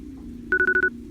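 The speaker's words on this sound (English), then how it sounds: "Just as the movie was finishing, the phone went off again." A telephone rings in a single short trill of rapid electronic pulses, loud and close, cutting through a low background hum.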